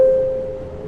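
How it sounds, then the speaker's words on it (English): A steady electronic alert tone from the Tube Sim train driving game, a single sustained pitch sounding alone for under a second and gradually fading. "A signal alert sounds like this."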